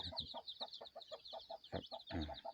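Red junglefowl chicks, bred from a pure junglefowl father and a crossbred hen, give rapid, repeated high peeps in a quick, uneven series, close and fairly quiet.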